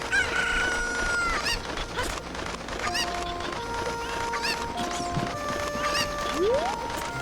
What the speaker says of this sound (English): I hear the last chicken.